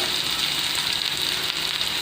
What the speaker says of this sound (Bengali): যার ফলে অনিয়নটা লেগেও যাবে না, পুড়েও যাবে না এবং সুন্দর করে ফ্রাই হয়ে যাবে, গোল্ডেন ফ্রাই হয়ে যাবে